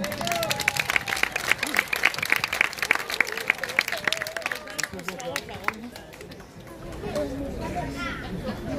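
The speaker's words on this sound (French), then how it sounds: "Allez, on l'applaudit bien fort." Audience at a singing contest in Surgères applauds loudly and steadily, dense clapping mixed with crowd chatter and a few cheers, fading slightly toward the end.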